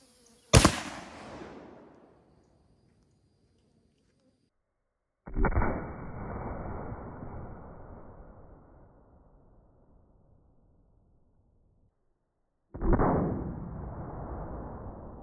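An air gun fires three times, each a sharp loud crack followed by a long decaying rumble, spaced several seconds apart with silence between; the gun shoots a heavy 16-gram 3D-printed TPU pellet at a honeydew melon outdoors.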